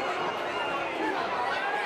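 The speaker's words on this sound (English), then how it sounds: "And the crowd are going bananas here" A football crowd at a Hereford FC match roars and chatters in a broad, steady wash of cheering ahead of a penalty kick.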